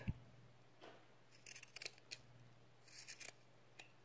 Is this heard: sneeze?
no